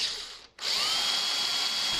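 A cordless power drill with a metal drill bit whines at high pitch as it bores through, starting, pausing for a split second, then spinning steadily and loudly up close in a garage workshop.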